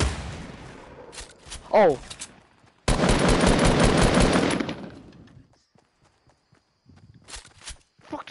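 Bursts of gunfire in a video game, a short volley and then a longer sustained rattle of rapid shots, with players exclaiming and talking around the shooting.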